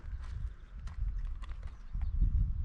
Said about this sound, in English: If you continue to pull back after your horse has stopped, they will start to back up.